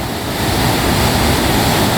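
Loud, steady rush of abundant stream water pouring over large rocks beside a small dam at a waterfall in Kerala, a dense continuous roar filling the whole clip with no talking.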